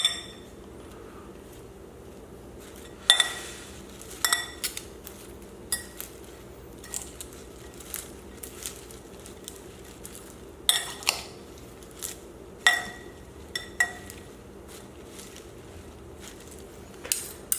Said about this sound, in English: You want to mix it with dressing that's on the bottom.